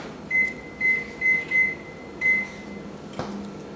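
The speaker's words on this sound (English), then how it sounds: "Put it in the microwave for about 20 seconds." A microwave oven heating bread gives five short, clear electronic beeps in an uneven rhythm, then a single click, over a quiet background.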